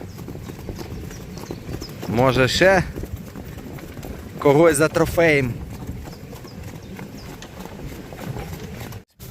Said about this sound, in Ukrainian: поки коні йдуть кроком, відпочивають.